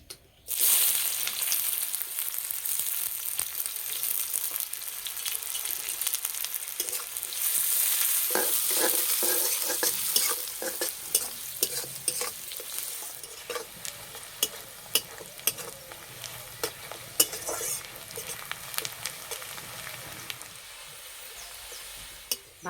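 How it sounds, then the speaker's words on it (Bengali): Sliced onions frying in hot oil for birista, a crisp onion garnish for egg pulao, sizzling loudly and steadily with bursts of crackle and occasional stirring clatter, close and without talk. "এবার আমি পেঁয়াজের বেরেস্তা ভেজে নেব।"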